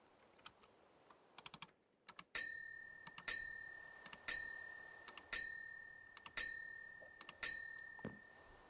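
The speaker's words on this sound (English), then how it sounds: "Let me try the service bell." A service bell from a Minecraft furniture add-on dings about six times in a steady rhythm, roughly once a second, each bright ring fading out, after a few soft clicks at the start.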